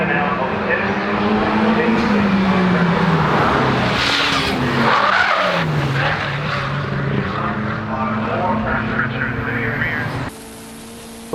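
A race car engine roars loudly and steadily, its pitch sweeping down as it brakes hard into Paddock Hill Bend at Brands Hatch from about 124, then dropping away abruptly near the end.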